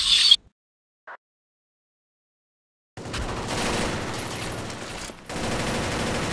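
Gunfire in a video game: a brief burst at the start, near-silence with one faint click, then sustained rapid automatic fire that pauses briefly and resumes, loud and close.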